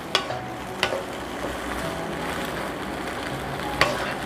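Shishito peppers stir-frying in a pan for a Korean side dish with sliced garlic, a steady close sizzle broken by a few sharp scraping clicks of a utensil against the pan.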